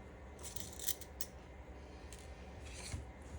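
Scissors snip through quilting fabric while a quilt block is trimmed, a few quiet crisp cuts close by over a faint background hum.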